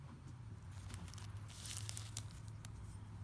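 A plastic bag holding an 18-in-1 snowflake multi-tool is torn open by hand, giving a close run of crinkling, ripping plastic noise lasting a few seconds with no talk.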